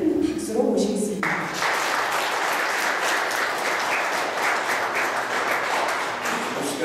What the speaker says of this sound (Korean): 유재풍 교수님을 큰 박수로 모시겠습니다.